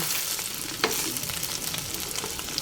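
A large, flat shrimp okoy fritter fries in hot oil with a steady, dense sizzle, broken once by a sharper crackle or clatter near the start.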